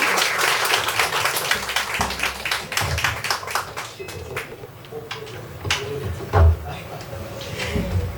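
Scattered audience clapping at a Korean poet's book concert, a mix of sharp individual claps fading in and out with murmuring voices and a few bumps and taps in the room.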